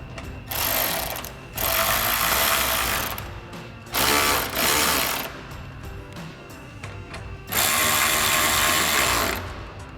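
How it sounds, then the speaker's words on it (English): Ratchet with a 10mm socket tightening new fender flare screws on a 2024 Toyota Tacoma, heard as several loud bursts of rapid mechanical clicking separated by short pauses, close up with no talk. "we'll take our 10mm socket on our ratchet and tighten these down"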